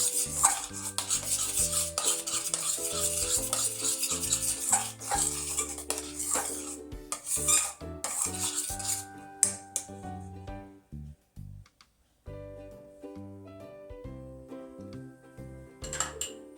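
A utensil scrapes and clinks against a pan as a homemade chocolate mixture with butter is stirred. The taps come in a quick, irregular rhythm over music, with a quieter pause near the middle.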